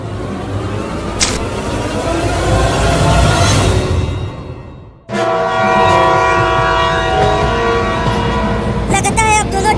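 Trains rumble loudly in a cartoon, a heavy continuous roll of wheels and cars, broken by a sudden cut and then long blaring horn blasts that carry on over the clattering.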